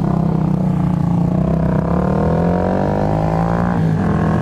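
Yamaha Factor 150 ED motorcycle engine running loud and close while the bike slows, the engine tone dropping and shifting as the brakes are applied, with steady road and wind noise throughout.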